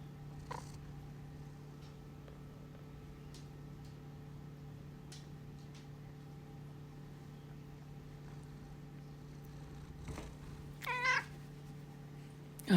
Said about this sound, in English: You can hear her purring in the background.